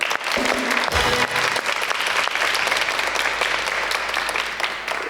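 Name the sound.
studio audience applauding loudly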